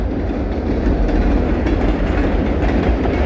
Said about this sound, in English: Reading and Northern, taking off down track.